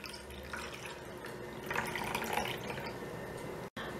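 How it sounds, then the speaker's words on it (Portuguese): Hot water pours into a container for a toy-doll hot chocolate, a close, soft, continuous splashing trickle that swells midway and stops abruptly near the end. "Vou abrir essa parte de cima e vou colocar aqui a água."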